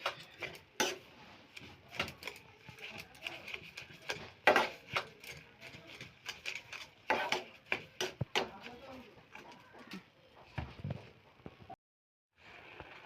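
Blackberries (kalo jam) are stirred with sugar in a pan, giving irregular soft clicks and scrapes of a spoon against the pan at close range, with someone talking over the stirring.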